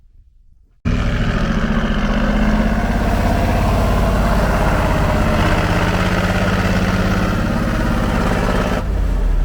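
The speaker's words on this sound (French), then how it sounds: "il a trouvé les clés de la déneigeuse et il va essayer de la reculer" Snowplow engine starting up on a blocked mountain pass road as someone tries to reverse it, a sudden loud steady rumble after a short quiet start, running continuously near and close up before cutting off at the end.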